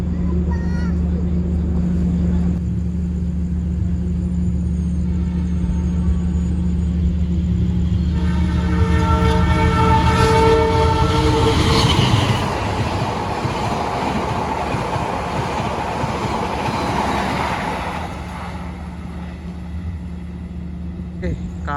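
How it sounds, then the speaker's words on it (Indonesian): KA Malabar express train on the Malang–Bandung route running through Caruban station at high speed, a loud close rumble building to a rushing peak midway and then fading as it passes, with a person talking over it. "KA Malabar ya, relasi Malang Bandung teman-teman. Berjalan langsung stasiun Caruban ya, berkecepatan tinggi"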